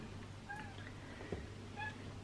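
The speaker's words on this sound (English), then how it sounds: "Why are you meowing?" A kitten meows several times, soft and somewhat distant, with short high calls spaced apart over a quiet background hum.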